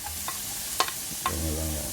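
Onions sautéing in a pan for vegetable spring rolls, with a spatula scraping and stirring in a few sharp strokes over a low steady sizzle, close and fairly quiet.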